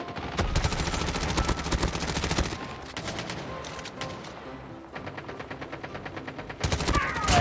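Rapid automatic gunfire in the Call of Duty Mobile battle royale at Launch Base, dense bursts of close machine-gun fire crackling almost continuously, easing briefly mid-way before sharp volleys return, with no talk.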